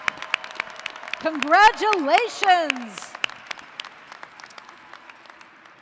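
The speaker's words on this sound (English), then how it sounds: "Last round of applause for our doctoral law and medical degree candidates." Applause for doctoral, law and medical degree candidates at the UW–Madison winter 2025 commencement: scattered clapping runs throughout while a voice speaks briefly over it, and the clapping thins out toward the end.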